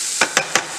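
A spoon stirs a chopped paneer filling in a pan with three quick scraping strokes, evenly spaced, close and crisp over a soft sizzle.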